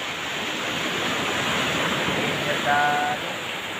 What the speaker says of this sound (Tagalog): Malaki na naman yung mga alon, guys.